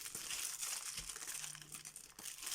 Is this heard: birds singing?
no